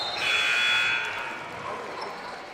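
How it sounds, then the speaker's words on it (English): A scoreboard buzzer sounds during a JV boys high school basketball game in a gym, a loud sustained tone lasting about a second before fading into crowd noise. "Subs are going to check in as the buzzer rings."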